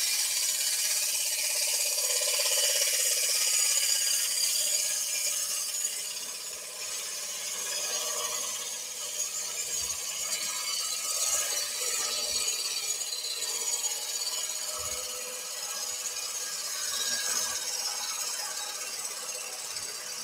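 Scraper cutting a wooden cheese platter on a lathe, giving a continuous faint scraping hiss over a low hum, with occasional small knocks and ticks across the long stretch.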